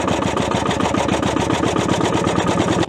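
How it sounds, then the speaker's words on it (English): An old bulldozer's diesel engine running steadily, a loud close chugging idle with a fast even knock that holds level for nearly three seconds and then cuts off, with no voices. "Moments later, the diesel engine came to life."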